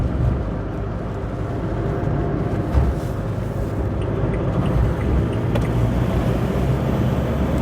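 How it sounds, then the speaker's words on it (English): A 2.2 diesel Berlingo engine hums steadily at about 1300 RPM in third gear at 20 mph from inside the cabin, a constant rumbling drone with road noise and no speech. "Bella perfectly happy doing 20 mile an hour in third again, as a good diesel should"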